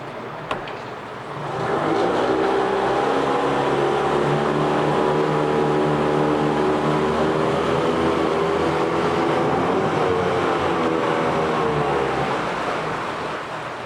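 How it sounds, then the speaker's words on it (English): A 2002 Yamaha 8hp four-stroke outboard boat motor with a 20-inch tiller and electric start cranks briefly, then runs at a steady idle with a smooth humming drone, close and continuous, and winds down slightly near the end. "It's a great running little engine."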